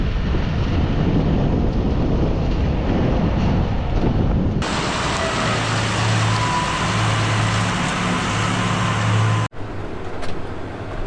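Strong wind of about 40 miles per hour roars across a farm field, buffeting the microphone in loud, continuous rushes with a brief break near the end.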